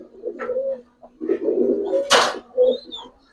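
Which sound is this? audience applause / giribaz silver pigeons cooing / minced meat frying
giribaz silver pigeons cooing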